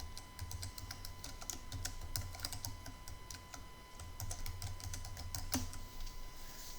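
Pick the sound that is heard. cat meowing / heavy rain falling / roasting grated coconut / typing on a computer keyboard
typing on a computer keyboard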